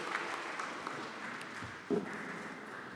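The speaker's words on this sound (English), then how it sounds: "May we please give a round of applause to the presenter." Audience applause at a public hearing on a basic education bill in Soshanguve, a steady, moderately loud wash of many hands clapping that holds for the whole stretch.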